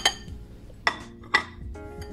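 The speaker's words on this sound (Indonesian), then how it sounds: "Coklat bubuknya kita campur dengan susu panas atau dengan air panas ya. Kita aduk rata." A utensil stirs cocoa powder into hot milk in a bowl, giving three or four bright clinks and scrapes against the bowl's side, close and fairly loud, with no voices.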